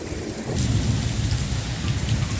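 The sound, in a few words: thunderstorm with heavy rain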